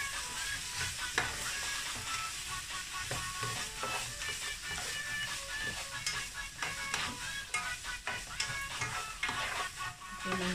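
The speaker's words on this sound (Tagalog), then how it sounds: "Stir fry." Pancit noodles stir-fried with oyster sauce in a hot pan, giving a steady close sizzle broken by irregular scraping and clattering stirs across the whole stretch, with no talking.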